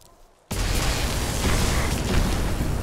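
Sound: explosions in a video game

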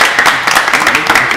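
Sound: audience applause

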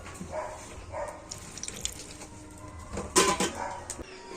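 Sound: water poured into coconut chutney

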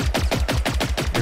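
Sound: gunfire in the video game Generation Zero

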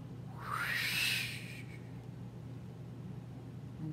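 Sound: voice imitating screeching car tires

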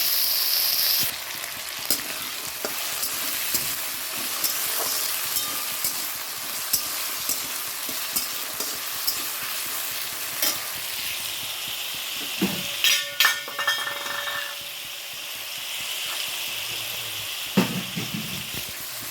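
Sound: potato and pumpkin frying in pan with black cumin and dried chili

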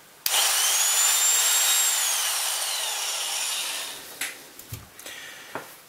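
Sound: Biax power scraper switched on and running

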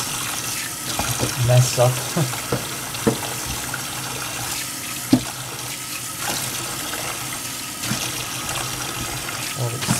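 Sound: water running from a sink tap while rinsing hair

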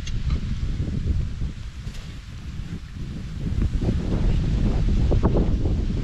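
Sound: wind

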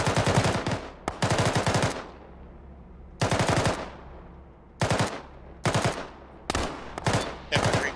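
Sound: gunfire from squad engaging enemy, Arma video game

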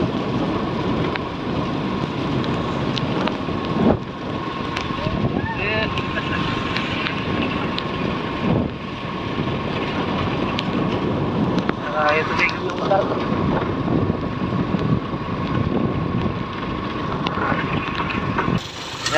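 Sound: rain falling outdoors

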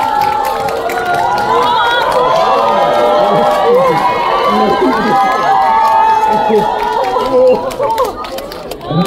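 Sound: cinema audience applause

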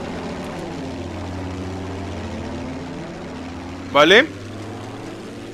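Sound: airplanes flying in the video game Battlefield V

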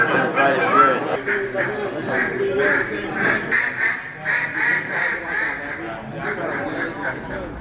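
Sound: duck call routine imitating duck quacks

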